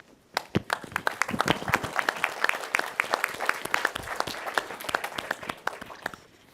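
A conference audience applauds a panel of speakers at an AI and education summit, dense steady clapping that swells quickly, holds for several seconds and tapers off near the end.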